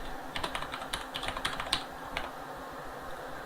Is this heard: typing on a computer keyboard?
yes